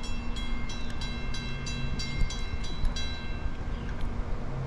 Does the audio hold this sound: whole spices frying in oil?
no